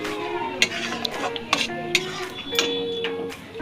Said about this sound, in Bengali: তার মধ্যে আমি দিয়ে দিলাম মিক্সির পেস্ট করা টক দই এবং কাজু বাদাম বাটা এবার এটাকে সুন্দর করে নেড়ে নেব কিছুক্ষণ